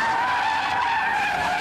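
Porsche Cayenne GTS tires squealing as the SUV corners hard on a race circuit near Mendig: a loud, continuous high squeal holding steady throughout, with no talking.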